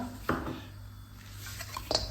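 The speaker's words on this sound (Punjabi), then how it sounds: "ਆਪਾਂ ਨੇ ਉਦਾਂ ਹੀ ਕੜਾਹੀ ਤੇ ਰੱਖ ਲੈਣੀ" A kadhai (wok) is set down on a stove while an oil-free sweet and sour pickle is being made, giving a few faint metallic clanks and a soft scrape in a quiet kitchen.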